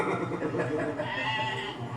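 Sheep bleat at a Tunisian sheep festival gathering, a dense, continuous chorus of overlapping bleats from a flock close by, with some voices mixed in.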